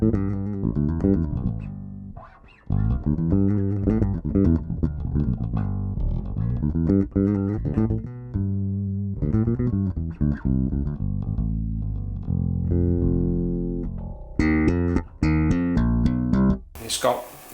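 A five-string bass guitar with EMG 40 DC pickups and an EMG preamp is played with the thumb, giving deep, full-bodied notes in a loose riff with short pauses and a brief bright burst at the end.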